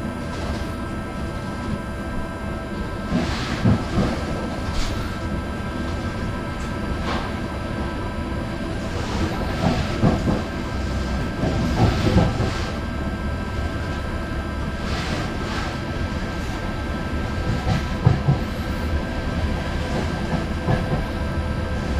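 An ÖBB Cityjet double-deck REX3 regional train runs through Vienna, heard from inside as a loud, steady rumble with recurring rail clicks and clatters over about twenty seconds.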